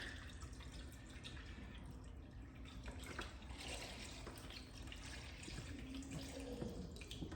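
Chicken broth pours steadily into a pot in a kitchen, a soft continuous liquid trickle with faint splashing, fairly quiet and without talk.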